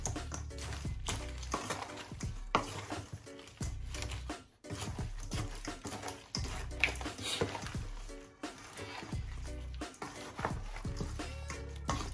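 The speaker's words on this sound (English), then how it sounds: "So it's best you use a spoon, get it all mixed in." A spoon mixes pepper prawns in a bowl, making soft, wet squishing and patter sounds in uneven bursts, close up and quiet, with brief pauses and no clear talk.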